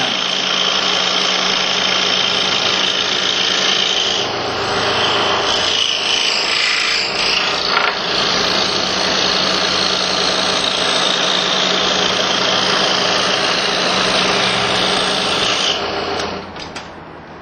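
A power saw cuts a wooden chess pawn, its steady high buzzing whine running loud and continuous, slowing through a sharp turn with easy feed before tapering off at the end.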